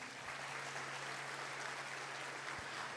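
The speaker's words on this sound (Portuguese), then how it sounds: "Quem pode aplaudir Jesus?" A church congregation applauds, a steady wash of clapping from many hands heard at a distance and fairly faint, holding evenly for a few seconds.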